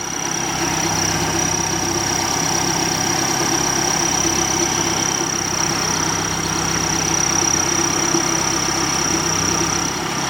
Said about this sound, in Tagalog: Grabe, talagang ang ganda pa ng andar ng makina niya